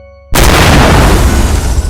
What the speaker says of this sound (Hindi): उसके बाद एक बहुत ही तेज धमाकों की आवाज सुनाई देती है